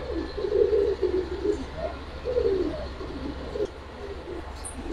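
Shahjahanpuri pigeons cooing close by in a pigeon keeper's collection, a series of soft low rolling coos repeating steadily over a few seconds with faint background noise.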